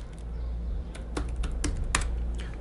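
Rapid, uneven keystrokes on a computer keyboard, close and fairly quiet, with a few sharper clicks over a steady low hum.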